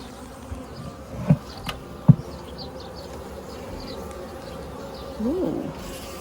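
Honeybees buzz in a newly opened backyard hive as the lid comes off, a steady low drone close by with a few louder passing hums, brief faint coo-like sounds nearby.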